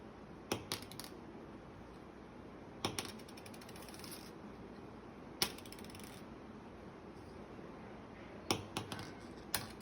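A gold ring handled on a hard surface, giving off an unusual sound. It comes as sparse, faint metallic clicks and small clinks in a few short bursts over quiet background noise, with no talk.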